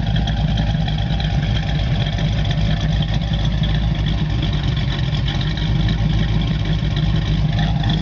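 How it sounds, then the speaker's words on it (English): A 1972 Camaro V8 engine idles steadily close by, its deep exhaust note pulsing with an uneven, lopey cam rhythm throughout. "Got a really nice lope in the cam there."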